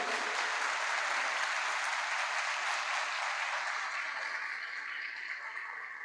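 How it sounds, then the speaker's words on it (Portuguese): A church congregation claps steadily through a service, the dense applause fading slowly toward the end. "Abaixa a Bíblia e dá um forte aplauso ao Senhor Jesus."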